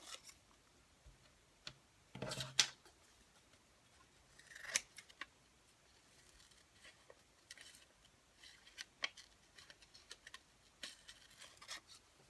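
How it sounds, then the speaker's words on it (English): Scissors snip a small piece of washi tape during pocket-letter crafting, with a few crisp cuts near the mic and quieter ticks and rustles between them. "So I cut a little piece of washi tape."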